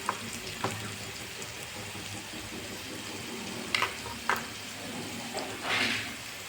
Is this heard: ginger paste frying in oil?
yes